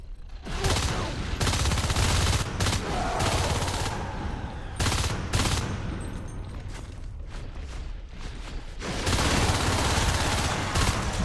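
Gunfire in a competitive video game match between All Terrain Vehicles and Horror Show, loud sustained bursts of rapid shots with brief gaps, dense and close, mixed with mechanical clanks and a faint voice underneath.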